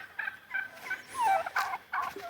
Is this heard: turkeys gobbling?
yes